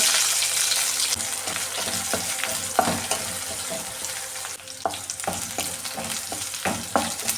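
Curry leaves, shallots and dried chillies crackle in hot coconut oil for Kerala-style sambar, a constant close sizzle with scattered sharp pops and stirring clicks throughout.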